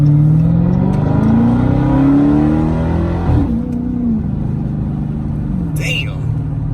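Exhaust of a 2019 Dodge Charger Hellcat with the mid mufflers deleted, a loud deep V8 rumble that rises and falls with revs, while people talk over it.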